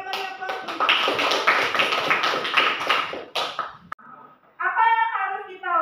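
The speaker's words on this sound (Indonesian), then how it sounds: "kita beri aplaus" Applause from a class audience, a short burst of quick, close claps lasting a few seconds before it breaks off, followed by a voice speaking.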